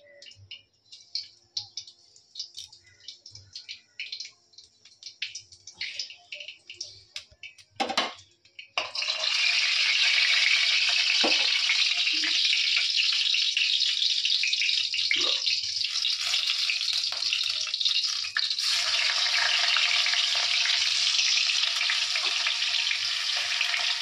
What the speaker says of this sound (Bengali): আর কড়াইয়ের মধ্যে তেল দিয়ে দিয়েছি, গরম হয়ে গেছে। এখন কালো জিরে দেবো।